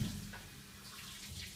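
Water running from a tap to fill a bowl, a soft, faint, steady splashing flow with no voices.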